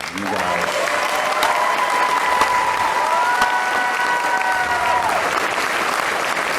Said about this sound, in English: give each other a round of applause, please